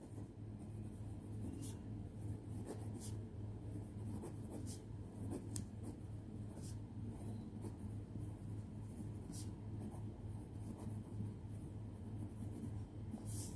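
A pen writes the mean formula on paper in a maths lesson, giving steady soft scratching with small taps as letters form, close and quiet over a low rumble of road traffic.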